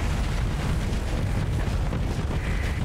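A Reaper torpedo explodes in the space combat game Starsector, a loud, rumbling blast that holds dense and sustained across the moment without a clear decay.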